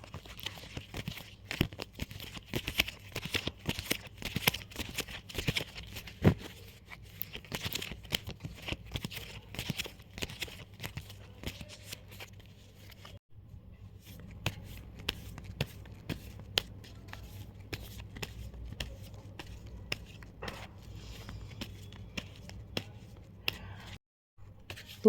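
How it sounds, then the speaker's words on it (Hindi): Tarot cards being shuffled by hand, a soft, irregular run of riffling, crinkly paper flicks and snaps, quiet and close, with no talk. "तो यहाँ पे मैंने सारे के सारे कार्ड्स प्रॉपरली शफल किए।"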